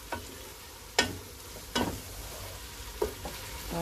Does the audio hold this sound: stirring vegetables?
yes